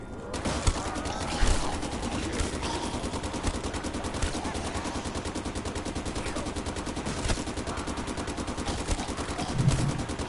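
An RPK machine gun fires in a Call of Duty game: long, rapid, evenly spaced bursts of automatic fire, loud and close, with a few heavier thumps mixed in.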